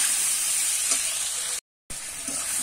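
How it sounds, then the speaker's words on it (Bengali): Pre-boiled taro and potato fry lightly in a pan, giving a close, steady, bright sizzling hiss that drops out briefly to silence before resuming just as loudly. "দিয়ে আমি একটু কিন্তু নেড়ে ছেড়ে নেবো। ভালো করে একটু ভাজা করে নেব, হালকা ভাজা করে নেব"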